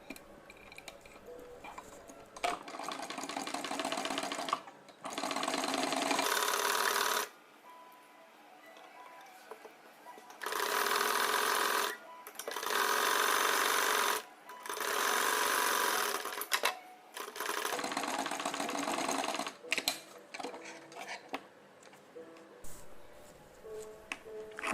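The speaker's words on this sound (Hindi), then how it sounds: "कर्व वाली साइड से हम सिलाई लगाएंगे" A sewing machine stitches a kurti along its curved side, running in several loud, steady bursts separated by short pauses with light handling noise between them.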